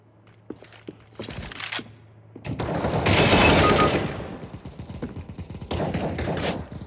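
Decoy grenades in the video game CS:GO mimic gunfire, with sporadic sharp shots giving way to a dense, loud rattling fusillade of rapid bursts that fades and then returns.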